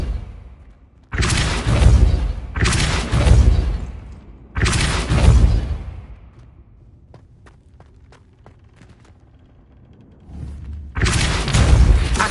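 In the Hogwarts Legacy video game, the Depulso spell lands in several loud, booming blasts, each a heavy burst with a rumbling tail, separated by a quieter stretch of small clicks and taps before a final blast.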